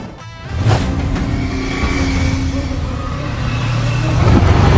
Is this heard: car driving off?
yes